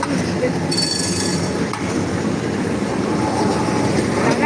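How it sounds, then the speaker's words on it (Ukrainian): A tram rumbles in loudly with rattling wheels and a high metallic squeal, steady and close throughout. "Приїжджає той трамвай"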